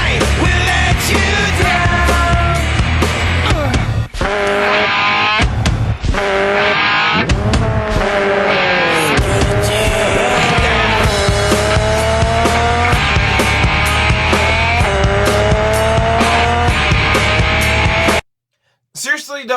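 Loud car sound effects, revving engines and screeching tires, are mixed into a rock song with guitar, dueling with the music throughout before a brief silence near the end.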